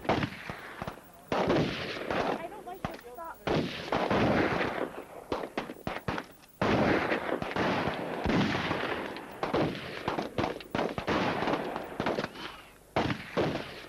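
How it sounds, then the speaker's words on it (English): Sustained, dense gunfire from guns being shot, loud, rapid and near, with overlapping bursts and brief gaps, almost continuous over a long stretch and without speech. "So now it's just an extension of, gee, I'd like to pick a gun up now, and wow, it's fun to shoot one of these."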